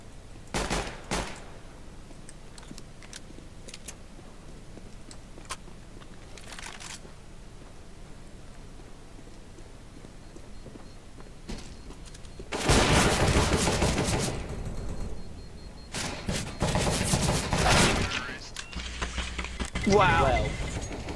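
Dual pistols fire in Counter-Strike: Global Offensive, quiet at first, then several loud rapid volleys in the second half, separated by short pauses, with a person talking across the clip.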